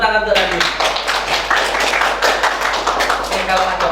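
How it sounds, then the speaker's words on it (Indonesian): A classroom group clapping, loud and close, a dense burst of many hands in quick rhythm sustained for a few seconds. "Tepuk tangan untuk Revi."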